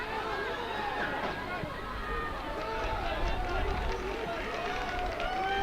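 Home supporters in a stadium crowd at a Bhutan Premier League football match between Paro FC and Thimphu City FC, a steady, continuous roar of cheering and chatter swelling slightly, heard from within the stands with commentary-like voices mixed in.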